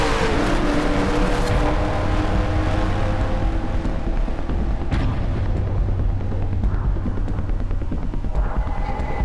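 A pack of race cars in a racing video game roars off at the green flag, a dense, loud wall of engine noise that holds steady throughout with a sharp bump midway.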